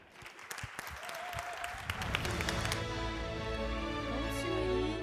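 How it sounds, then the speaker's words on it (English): Applause builds from scattered claps into a steady, sustained round from a crowd at a conference award ceremony, with some voices and background music underneath. "Applause for them."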